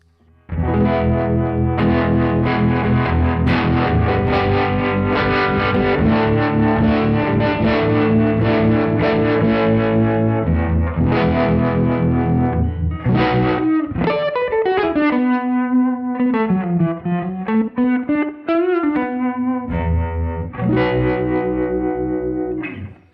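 Electric guitar played through the Neural DSP plugin on one of its presets, loud and sustained with driven, effects-laden chords, then sliding, bending single-note lines with chorus-like shimmer, heard alone without talk.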